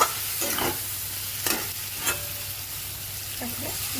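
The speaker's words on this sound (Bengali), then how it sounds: "এখানে সুন্দরভাবে নাড়িয়ে চাড়িয়ে মশলাটাকে ভালো করে মিক্স করে" Masala and chopped tomato being stirred and mixed in a pan, with a soft sizzle under a few distinct scraping strokes of the spoon spread across the stretch.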